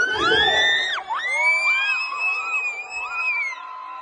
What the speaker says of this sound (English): he pumps his fist into the air in a victory position, and the crowd goes wild